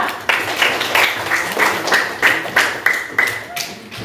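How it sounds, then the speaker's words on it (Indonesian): An audience claps in applause for a presenting group of students, steady brisk clapping throughout with a voice speaking over it. "Kita beri aplaus untuk kelompok 2"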